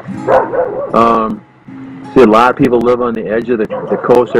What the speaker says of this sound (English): sorry for the dogs in the background here.